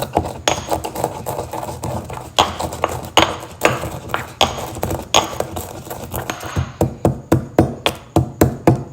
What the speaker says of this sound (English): we're going to just grind it in this little mortar and pestle